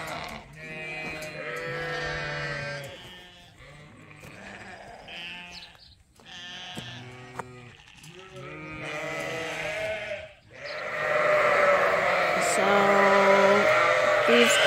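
Sheep bleating in a pen at feeding time as dry ewes get grain, many loud overlapping baas near and far, growing into a dense chorus toward the end.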